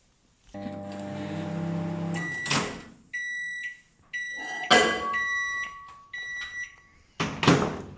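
A microwave oven hums steadily for a couple of seconds, then a series of sharp electronic beeps sound in short bursts, close by.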